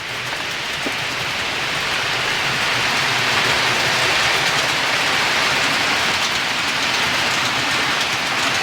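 A steady, dense rushing hum with fine rattling texture from model diesel trains running continuously on a layout nearby, unbroken and fairly loud throughout.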